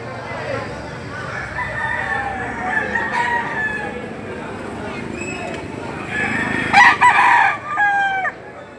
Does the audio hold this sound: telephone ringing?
no